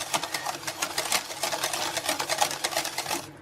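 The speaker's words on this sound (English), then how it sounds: "we're going to do the last couple of whisks," Eggs whisked into chocolate brownie batter for a keto, low-carb dessert, giving a rapid, steady run of close scraping strokes with no talking.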